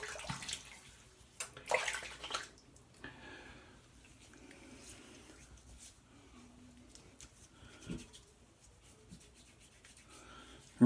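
Water rinsing through hair during a barber visit, soft irregular splashing and rubbing close by, louder bursts early on, then quieter trickling and faint movement.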